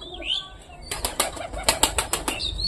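A few large house pigeons beat their wings in a quick burst of loud, close flapping, with a faint coo or chirp just before it.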